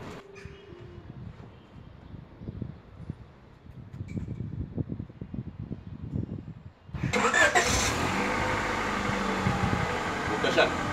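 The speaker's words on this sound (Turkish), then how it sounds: "Şimdi aracımızı çalıştıralım." A car engine starts in a Turkish workshop during an alarm and central-locking job: after a voice speaks, the starter catches and the engine fires abruptly into a steady, close idle that runs on to the end.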